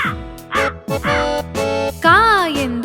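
In a children's Kannada rhyme, a sung voice imitates a crow's 'caw caw' with several loud, rhythmic calls over a melodic backing.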